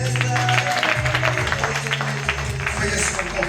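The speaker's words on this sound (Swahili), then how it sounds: "Alafu mpe Yesu makofi." A standing congregation clapping for Jesus at a church service, a dense, continuous wash of many hands under a sustained low musical drone, fairly loud and close.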